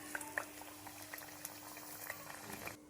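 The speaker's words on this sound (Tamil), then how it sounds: "ஒரு பீஸாக எடுத்து மாவில் நல்லா டிப் பண்ணி எண்ணெயில் விட்டு பொரித்து எடுத்துக்கலாம்" Batter-dipped bajji pieces deep-fry in hot oil as an evening snack, a faint, steady bubbling hiss with small scattered pops and no one speaking.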